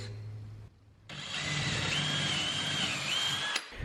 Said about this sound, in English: I'm going to take a 3/16 bit and drill a pilot hole in each one of these locations